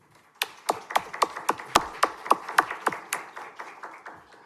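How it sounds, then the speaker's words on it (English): Scattered clapping from a small audience at a school district board workshop, honoring the HR team: a dozen or so sharp, distinct claps in a loose, uneven rhythm, close and fairly quiet, tapering off after about four seconds. "Let's give them a round of applause."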